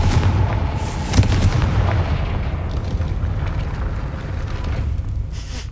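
A Confringo fire spell explodes in the Hogwarts Legacy video game, a sharp blast near the start followed by a dense, sustained rumbling roar of fire and debris that stays loud throughout.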